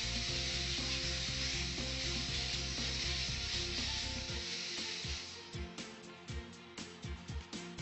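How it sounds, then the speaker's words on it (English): Steady hissing steam from a steam cleaner lance with a stainless steel detail brush scrubbing a stainless steel pot; the hiss fades out and leaves rhythmic brushing strokes at the end. "the buildup can be removed with a KleenJet Vapor Steam Cleaner and the steam lance"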